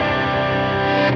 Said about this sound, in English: you can hear what these higher gain settings can do on this pedal